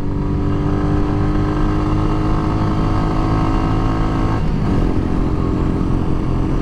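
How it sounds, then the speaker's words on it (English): Royal Enfield Meteor 350 motorcycle engine droning steadily at high revs against the rev limiter, loud and close throughout with a brief dip in tone partway through, no voices. "Hit rev limiter."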